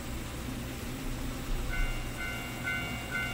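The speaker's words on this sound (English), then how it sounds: "it's a train." A train rumbles past in a Japanese urban-legend horror video game, a steady low, close roar with a faint repeating higher tone that swells slightly midway.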